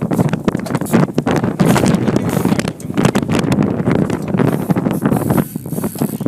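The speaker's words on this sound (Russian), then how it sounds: "Тут сильный ветер." Strong gusty wind buffets a sailing yacht, loud rushing microphone wind with rustling and flapping throughout and steady roar underneath.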